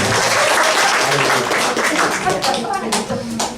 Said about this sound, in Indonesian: Beri tepuk tangan Tuhan.